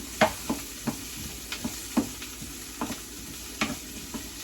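Vegetables such as broccoli simmer in oil in a pan for vegan veggie hibachi. A soft, constant sizzle runs under regular spatula taps and scrapes, close by, with no voices.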